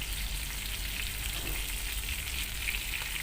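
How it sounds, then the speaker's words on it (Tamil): Fish fries in a pan as pieces are turned over, a dense, even sizzle with a steady low hum underneath, close and unbroken throughout. "இப்போ ஒவ்வொரு மீனையாக திருப்பி போட்டு பின்னாடியும் நல்லா வேக விட்டுடலாம்"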